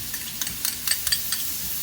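Shrimp heads stir-fry with roasted chili paste in a hot pan, giving a steady sizzle broken by quick scraping and stirring strokes, close and alone.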